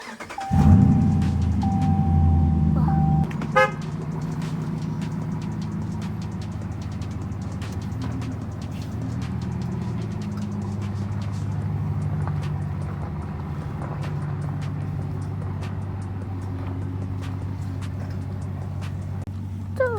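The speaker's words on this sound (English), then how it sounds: "I'm gonna let my boy Israel drive, and he's gonna park it over there." A pickup truck engine starts loud nearby, then settles into a steady low idle and rumble as it is slowly driven and parked, with a few faint clicks and knocks over the long run.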